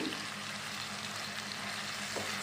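Rice sizzles and fries in hot oil for prawn pulao, a steady, soft crackling hiss with no voices over it.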